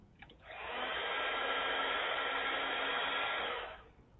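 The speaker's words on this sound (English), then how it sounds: "Why is he heating that up with a blow dryer?" A blow dryer switches on, runs with a steady, even whoosh for about three seconds while heating something, then winds down. It is close and heard alone.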